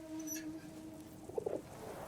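Pigeon cooing in the Battlefield 1 campaign, a few soft, close coos in a short cluster over a quiet game ambience, with a faint chirp earlier on.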